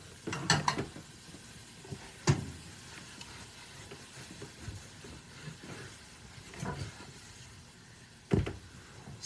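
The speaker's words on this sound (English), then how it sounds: "I'm actually just kind of cleaning out my brush on the fabric" A paintbrush is wiped and scrubbed against waxed canvas fabric, giving a few short, soft brushing scrapes that stand out faintly from a quiet background.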